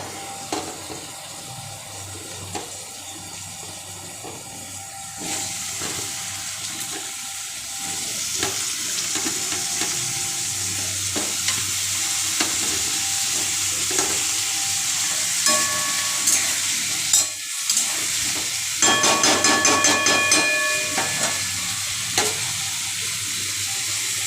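Potatoes, tomatoes, onion and green chili fry in a pan with low oil, giving a steady close sizzle throughout, with occasional clinks and stirring scrapes of a utensil and a brief watery patch near the end.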